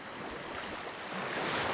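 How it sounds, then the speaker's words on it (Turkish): Ocean waves wash onto a beach in a steady, close surf roar that swells slightly louder toward the end, with no voices. "Dalgaların sesi artıyor biraz ama rahatsız edici değil."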